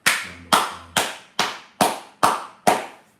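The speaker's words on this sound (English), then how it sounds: "Let's give Kamala a fine round of applause" Seven sharp, evenly spaced bursts of clapping or popping, each decaying quickly, loud and close with no talk, rather than a continuous audience applause.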